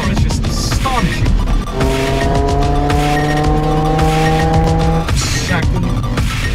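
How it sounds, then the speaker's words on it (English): An Infiniti G35 accelerating hard, its engine loud and close, revving up through rising pitch sweeps with a brief tire squeal, steady and powerful throughout. "Acceleration of this car is just astonishing."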